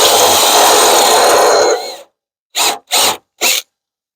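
A power drill bores out a hole for a rivet nut on a Chevy S10 during a transmission cooler install: a loud continuous whir that winds down, then three short trigger bursts close by.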